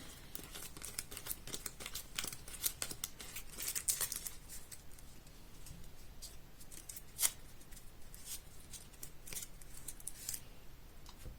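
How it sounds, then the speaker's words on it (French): Journey cards for a solo game of Friday are shuffled by hand in soft, quiet bursts of papery riffling and crisp snaps, spread across the stretch with no speech. "On mélange les cartes périple."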